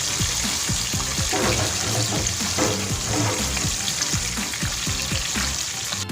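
Freshly caught yellowtail fish frying in a pan, with a loud, steady sizzle and crackle of oil that runs unbroken throughout.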